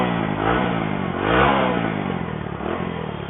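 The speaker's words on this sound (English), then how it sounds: "Let me rev the bike for you." A Bajaj V15 motorcycle revs through its exhaust, a grunty, close engine note rising and falling in two or three throttle blips over a steady idle, with no talking.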